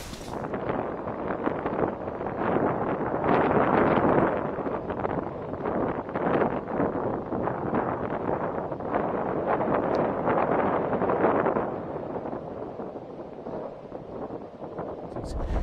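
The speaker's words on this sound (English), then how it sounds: "So it's pretty windy up here." Strong wind on high ground in Warwickshire buffets the microphone in loud, continuous gusts that rise and ease, with a roaring, rumbling texture throughout.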